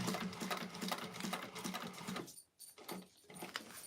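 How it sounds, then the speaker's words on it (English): A sewing machine runs steadily with a rapid, rhythmic mechanical clatter and an odd irregular sound while stitching waterproof canvas for a bowler bag, pausing briefly before restarting; no one talks. "Maybe my machine needs some oil."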